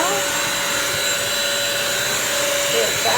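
A Bissell Crosswave corded vacuum-washer runs in hardwood-floor mode, giving a loud, steady motor whine with a sustained tonal hum that holds throughout without a break.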